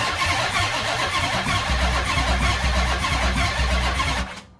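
A Chrysler 300 with a swapped SRT8 engine cranks and fires on its first start, loud and close, settling into a rough, rumbling idle with uneven pulses before cutting off abruptly.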